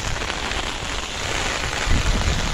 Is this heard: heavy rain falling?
yes